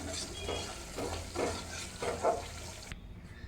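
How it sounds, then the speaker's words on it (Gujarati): Crumbled mawa (khoya) being broken up and stirred in a hot pan while making adadiya pak, a soft rhythmic scraping and light sizzle repeating about every half second before stopping abruptly near the end. "ધીમે ધીમે આપણે માવાને આવી રીતે છૂટો પાડી અને એનો મિક્સ કરતો જવાનો છે"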